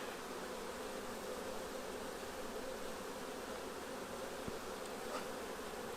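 Honey bees buzz steadily inside a mating nuc at an apiary, a dense, even drone that stays close and unbroken throughout with no talking.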